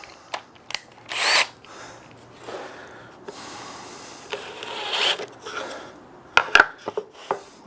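Half-inch Forstner bit drilling an angled hole in wood for a native bee box, heard as short separate bursts of drilling and bit noise between pauses, close by, with no speech.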